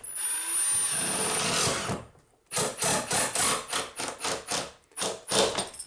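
A power driver sinks screws through Kerdi-Board into the wood framing behind a shower wall: one long whirring run, a brief pause, then a quick series of short, close, loud bursts.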